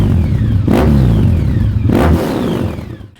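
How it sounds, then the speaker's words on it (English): A Honda ST1300 Pan-European motorcycle with an aftermarket performance exhaust revs hard twice, throaty exhaust rising and falling close by, then settling to a steady idle before fading. "Nice and throaty and exhaust note."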